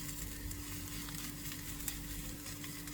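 Mushrooms frying in a pan over raised heat for stewed cabbage, a steady close sizzle with faint crackle that holds level throughout, with no talk.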